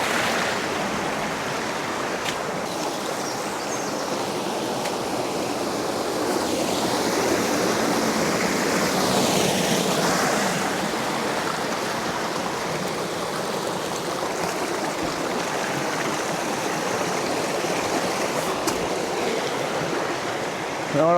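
Water flowing steadily through a canyon stream in the Drôme, the Canyon des Gueulards, a loud continuous rushing wash close by for the whole stretch, no talk.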